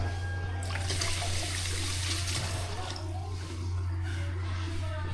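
Water trickles and drains steadily from black beans under a constant low electrical hum, with a brief splash near the start.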